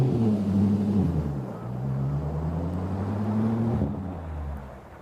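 A car with straight-piped exhaust and mufflers removed pulls up a snowy hill through first, second and third gears, its deep, loud engine drone rising and falling with each shift and wheelspin, close and steady throughout.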